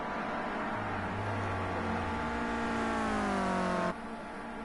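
A Clio Cup race car's engine revs hard on track, a loud sustained climbing whine with layered harmonics that drops abruptly near the end, as if shifting or lifting off.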